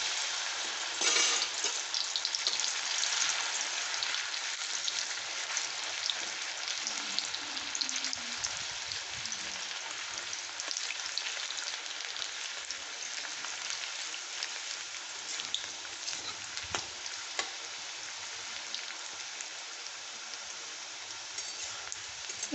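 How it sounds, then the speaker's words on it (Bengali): Bitter gourd slices fry steadily in hot white oil, a dense, even crackling sizzle with occasional stirring scrapes, close and continuous with no talk. "এবার কিছুটা পরিমাণে উচ্ছে আমি তেলের মধ্যে ছেড়ে দেবো।"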